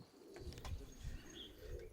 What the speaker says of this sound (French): Il n'y a rien de plus poétique que le roucoulement des pigeons.